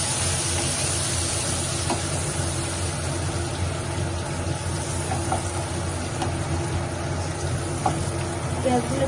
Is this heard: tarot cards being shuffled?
no